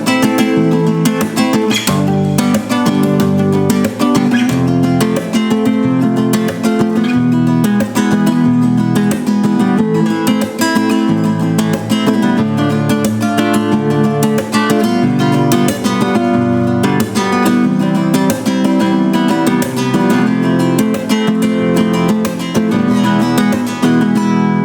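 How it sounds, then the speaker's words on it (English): Spanish guitar strummed in a flamenco rumba rhythm, rapid percussive strokes repeating in a steady driving pattern with full chords, loud and close with no talking. "This comes from the flamenco tradition of Spain and this is called flamenco rumba"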